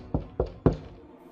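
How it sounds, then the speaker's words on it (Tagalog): Three firm knocks on a door, evenly spaced and fairly close, with a short resonant decay after each and no voices. "biglang may kumatok sa pintuan."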